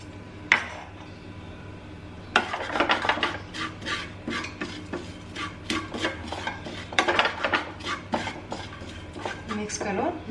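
A spoon scrapes and clinks steadily in a pan while sweet corn pickle is stirred with cumin and coriander powder, a close run of metallic rattles and taps after one sharp knock, with faint voice traces.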